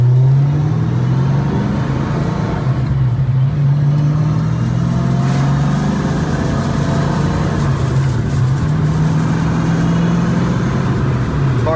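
A car fitted with a swapped-in T-5 manual transmission drives through a neighborhood, its engine droning loud and steady with rising revs as it accelerates, continuous and close throughout.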